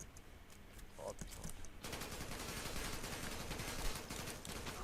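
Automatic gunfire rattles in the Zula first-person shooter game. A sparse start gives way to a dense, continuous machine-gun barrage that carries loudly to the end.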